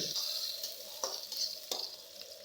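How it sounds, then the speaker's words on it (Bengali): A teaspoon of panch phoron spices hits hot oil with a soft sizzle, and a spoon scrapes and stirs in three distinct strokes against the pan, close but fairly quiet. "এবার পাঁচফোড়ন দিয়ে দিচ্ছি পাঁচফোড়ন এক চা চামচ দিলেই হবে"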